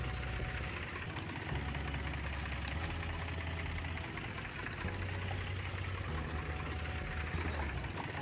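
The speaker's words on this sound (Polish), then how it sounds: "No zaraz ten ciągnik trzeba będzie przestawić." A farm tractor idles steadily through spring ploughing work, giving a continuous low chugging rumble with a faint knocking pulse that holds without breaks, and nobody speaks.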